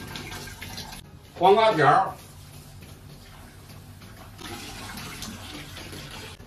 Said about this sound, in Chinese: 现在呢把这个黄瓜洗一下